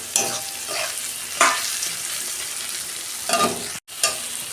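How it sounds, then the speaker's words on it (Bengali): Onion and tomato frying in a pan, a quiet sizzle broken by a few brief stirring scrapes and a short gap near the end. "পেঁয়াজ আর টমেটো আমার ভাজা হয়ে গেছে।"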